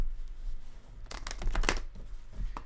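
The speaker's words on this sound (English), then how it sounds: "I'm gonna have to shuffle that one more time." Tarot cards being shuffled by hand, a quick papery riffle and flutter lasting about a second, followed by soft handling rustles, close and fairly quiet.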